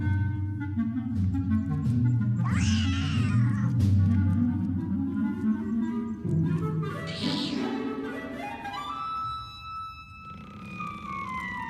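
A cat meows twice in long, drawn-out wails, then a rising cry, over a low rumbling background.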